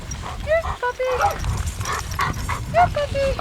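Dog whimpers and gives short barks and yips amid snowy outdoor activity during a blizzard, the high whines and barks recurring several times close by while people talk in the background.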